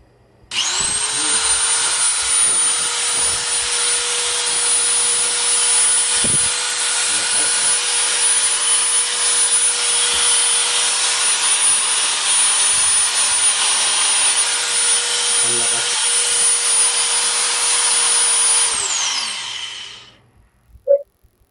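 A Powerhouse 750W angle grinder with an M10 spindle thread runs its motor steadily at high speed with a loud, constant whine for about eighteen seconds, then spins down and stops, followed by a brief click.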